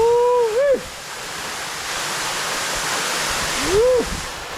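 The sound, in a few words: waterfall in St. Vincent and the Grenadines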